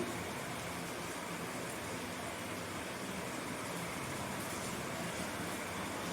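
Steady rain falls outdoors as a dense, even hiss with no breaks, moderately loud and unchanging throughout, with no voices.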